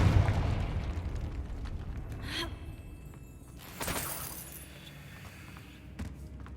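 Confringo blasting spell in Hogwarts Legacy, a couple of short bursting blasts with crackling tails over a low ambient game backdrop, fairly quiet overall.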